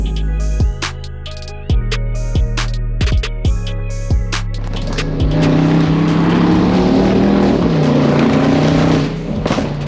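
A 920 hp Mercedes G-Class roars close by, first with a series of sharp revving blips and pops, then a sustained loud, rumbling acceleration that fills the rest of the stretch.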